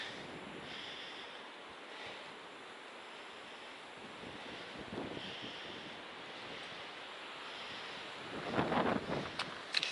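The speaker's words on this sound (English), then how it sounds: "It's still a little breezy." Steady breeze gusting across a hiking trail on the Appalachian Trail, rushing and buffeting the microphone in a continuous roar that swells louder near the end, with no talking.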